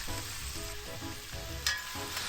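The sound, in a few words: burst cherry tomatoes sizzling with garlic, olive oil and white wine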